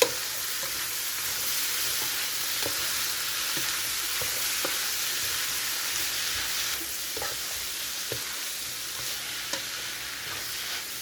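Sliced beef tripe and beef heart sizzle steadily in a hot frying pan for a curry, a constant loud hiss broken by faint scrapes and stirring clicks.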